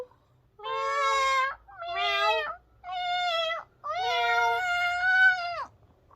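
A human voice imitates fighting cats, giving four long, wavering yowls separated by short pauses, loud and close with nothing else behind them.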